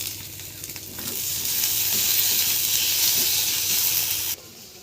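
Chopped tomatoes hit a hot oiled pan and set off a loud, steady sizzle with stirring, a bright hiss that swells after the first second and then cuts off abruptly near the end.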